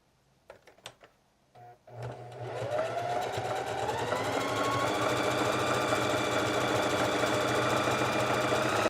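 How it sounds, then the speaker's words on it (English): A sewing machine runs a quarter-inch seam joining hoodie panels, starting with a few short stops and clicks before settling into a steady, loud continuous whir with a rising motor tone, close by. "So I'm gonna do a 1/4 inch stitch here"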